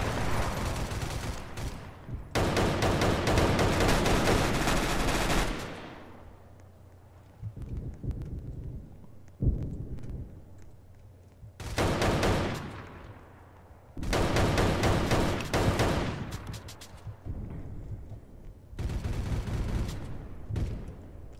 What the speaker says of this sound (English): I'm just using a shotgun across the freaking map.